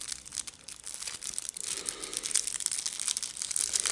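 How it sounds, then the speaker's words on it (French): Yu-Gi-Oh card deck packaging being opened, with steady close crinkling and tearing of plastic wrap throughout, growing slightly louder toward the end, no voices. "maintenant, allez, on va ouvrir le premier deck"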